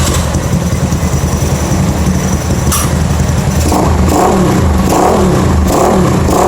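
A Volkswagen car engine revs hard through an aftermarket exhaust pipe, a loud, continuous close-up roar with throttle surges building toward the end and no talking.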